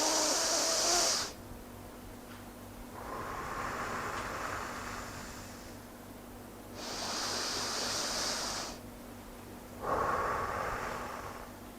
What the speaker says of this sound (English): As you can see, when I am breathing in, my hands are going up. When I am breathing out, the hands are going in.